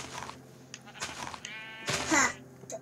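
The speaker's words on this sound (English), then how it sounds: "Oh, look, a black sheep!" Several sheep bleats from the video game Minecraft, with wavering tones that rise to a louder, closer bleat near the end, set over a faint steady game background.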